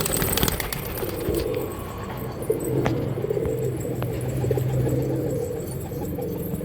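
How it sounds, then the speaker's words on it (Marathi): A domestic pigeon coos softly in a loft, with low repeated cooing over steady background noise and faint bird chatter, no talking. "डायरेक्ट मामापासून आलेलं कबूतर."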